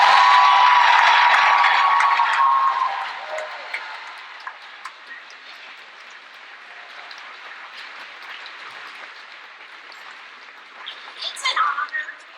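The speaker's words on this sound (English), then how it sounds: "we could give them another round of applause" Audience applause for teacher nominees at a school convocation, a broad wash of clapping that is loud at first and then tapers into scattered claps and quieter room noise.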